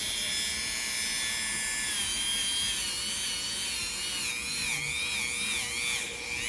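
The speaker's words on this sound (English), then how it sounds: "this is where the Dremel really helps us out a lot" Dremel rotary tool grinding a hard leather foot, a continuous high-pitched whine that shifts in pitch as pressure changes, close and steady throughout.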